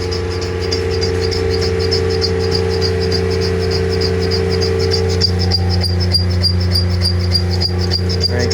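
A line boring machine cuts at 180 RPM while repairing a forklift's extreme-reach mount. It gives a steady, loud mechanical whir with an even hum and light rattling, and no one speaks.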